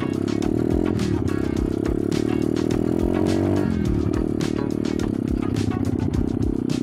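A small motorcycle engine idles with a busy, rattling putter, its pitch rising gently twice as it warms up, close and steady throughout.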